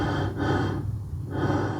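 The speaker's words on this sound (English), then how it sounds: "Breathing, machine breathing in a creepy way." Creepy, machine-like breathing made with an AI sound tool, two long breathy swells in a row, close and steady with a raspy, gasping texture and no talk.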